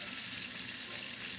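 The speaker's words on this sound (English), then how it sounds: "just kind of put it in there and let it fry a bit, let it sizzle" Bacon frying in a pan, a dense, steady hiss and crackle of sizzling fat that stays loud and even throughout the short stretch, with no talking.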